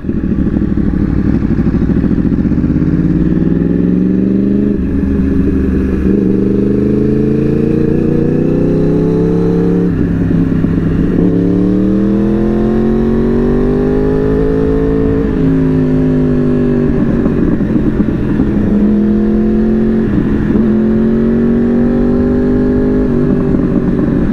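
A Yamaha R1 superbike engine revs loudly and continuously, its pitch climbing and dropping through repeated throttle blips, close up with no voices.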